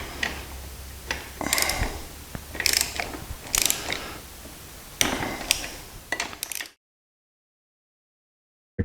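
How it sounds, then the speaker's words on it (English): A torque wrench clicks and ratchets in irregular bursts while bolts are tightened to 180 inch-pounds on the Kohler engine of a Toro GT150 lawn tractor, close and clear, then silence. "All right, torquing these down at 180 inch-pounds."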